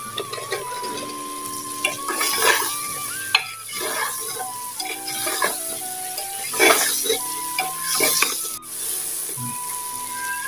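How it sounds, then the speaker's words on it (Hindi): Cooked bottle gourd tipped into a hot pan and stirred with a utensil, giving a steady sizzle broken by scraping strokes and knocks against the pan, with a background tone running throughout. "तो अब इसमें ऐड कर दूँगी मैं सब्जी जो रखी थी कद्दू वाली वो"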